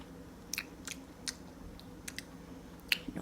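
Someone bites into and chews a homemade orange popsicle, producing faint, sparse crunching clicks and soft chewing sounds at close range over a low steady background hum, with no talking.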